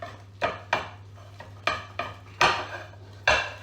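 A whisk scrapes and clinks against a bowl while coconut milk cookie dough is mixed, with about eight sharp, irregular clatters close by and no talking.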